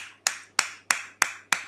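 A lone person claps at the end of a reptile-keeping show, five sharp, evenly spaced single claps about a third of a second apart, close but fairly quiet over a faint steady hum.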